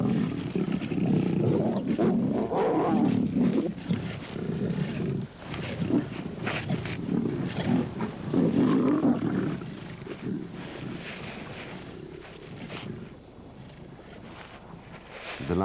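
A starving pride of lions feeding during a severe drought, with low growls and rumbling snarls close by, continuous over the first ten seconds and then easing off, with wind noise in the background.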